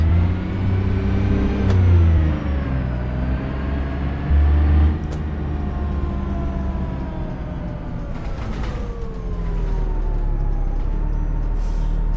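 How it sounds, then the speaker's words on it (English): A Trident bus engine in the OMSI 2 bus simulator drones steadily with tones that rise and fall as it accelerates and slows, a continuous mechanical hum with brief clicks. "More time with the Trident engine sound."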